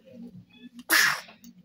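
A single sharp, loud sneeze bursts out close by, preceded by faint murmuring sounds.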